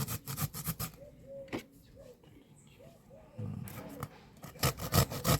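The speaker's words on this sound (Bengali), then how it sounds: "এখন আমরা পটলটা ঘষে নিচ্ছি।" Pointed gourd (potol) grated on a kitchen grater, bursts of close scraping strokes at the start and end with a quieter gap between where soft background sounds are heard.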